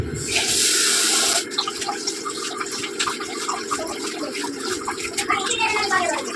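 Raw rice and urad dal being rinsed in water, with a steady tap-like rush at first followed by sloshing, swishing and trickling as the grains are washed, close up.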